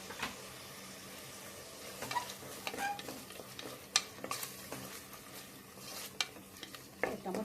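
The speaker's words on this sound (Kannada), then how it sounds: "ಟೊಮೆಟೊ ಹಾಕ್ಕೊಂಡು ಚೆನ್ನಾಗಿ ಹುರ್ಕೊಳ್ಳೋಣ, ಹಸಿ ವಾಸನೆ ಎಲ್ಲ ಹೋಗೋವರೆಗೂ" Chopped tomatoes fry in a pan for chicken dum biryani, giving a soft, continuous sizzle over the whole clip. Irregular scraping and clinking of a spoon against the pan stand out as it is stirred, with no talk.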